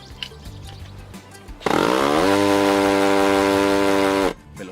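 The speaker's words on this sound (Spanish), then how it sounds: "mostrarles cómo hacer un agujero con esta broca en el modo martillo" Hammer drill with a masonry bit boring into an outdoor concrete patio slab: a loud, steady mechanical whine with a rattling buzz that starts abruptly, holds for under three seconds and then cuts off.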